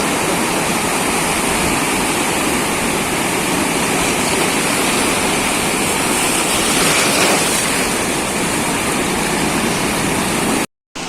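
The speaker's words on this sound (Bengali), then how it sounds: "তারপর একটু তোমাদের সমুদ্র গর্জন শুনিয়ে শেষ করছি আজকের ভিডিওটা" Sea waves roar as a dense, continuous wash of surf that is loud and close. The sound holds steady throughout and cuts out briefly just before the end.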